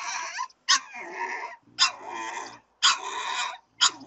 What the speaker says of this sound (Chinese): 你是谁家的小狗崽儿啊？